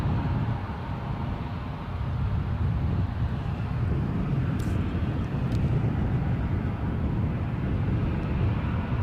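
A Ryanair airliner departing Edinburgh airport for Toulouse rumbles with a steady, low-heavy engine roar, continuous and moderately loud, with some wind buffeting and no speech.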